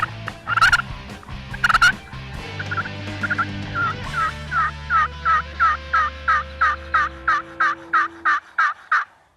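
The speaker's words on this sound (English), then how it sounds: "We hit the call, he gobbled, and we knew we were on a hot bird." A wild turkey gobbles loudly and nearby in fall hardwoods bordering an overgrown field during a hunt. Early calls give way to a long, evenly spaced run of rapid pulsing notes that fades toward the end.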